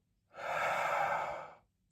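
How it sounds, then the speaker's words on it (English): One slow, deep breath drawn steadily in as a calming grounding exercise, a soft, airy sound that swells and fades over about a second and a half, close and quiet with no speech. "grounding exercises by breathing steady in, like this, holding for a few seconds, and then out"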